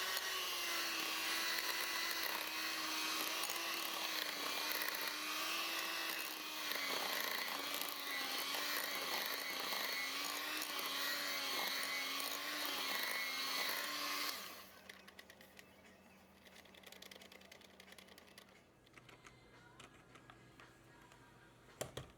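An electric hand mixer beats blueberry muffin batter with a steady, wavering motor whine for about fourteen seconds. It then cuts off, leaving faint clinks and handling noises.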